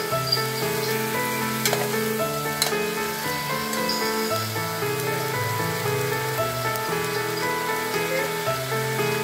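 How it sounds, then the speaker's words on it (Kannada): Vegetables fry in a pressure cooker for veg kurma, giving a loud, steady sizzle and crackle throughout, with tonal background music running underneath. "ಸ್ವಲ್ಪ ಫ್ರೈ ಮಾಡ್ಕೊಳ್ಬೇಕು"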